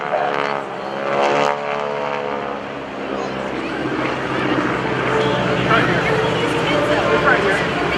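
GEICO Skytypers propeller aircraft fly over an air show at AirPower Over Hampton Roads, a loud steady engine drone that rises and falls throughout, heard under continuous commentary from an announcer.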